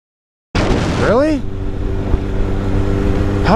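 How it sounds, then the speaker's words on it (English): A car passing on the road, heard from a motorcycle rider's position: a loud engine roar that rises and sweeps past with a falling whine, then a steady engine drone continuing underneath. "As soon as that car passed, you just started pulling right out."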